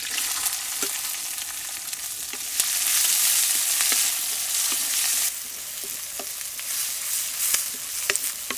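Chopped onions frying in hot oil with mustard seeds, cumin and curry leaves, with a loud, continuous close sizzle that swells midway and sharp intermittent ticks and scrapes from stirring.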